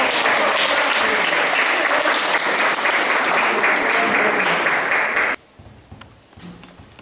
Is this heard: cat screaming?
no